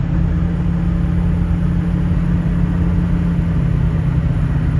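A 6.0 Powerstroke diesel pickup with 3.73 gears cruising at about 70 mph under light load, producing a steady, loud, low engine and road rumble that holds constant throughout with no voices.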